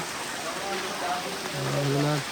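Dense steady rain hisses throughout while voices speak over it near the microphone.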